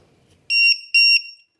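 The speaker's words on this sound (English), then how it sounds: "Okay, you can hear it beep," A battery balance charger gives two short, bright electronic beeps right after a battery lead is plugged in, clear and close in a quiet room.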